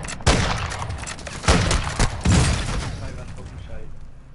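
Gunfire in a PS4 game fires in several loud, sharp bursts close together, then fades into a rumbling tail, while a voice talks over it.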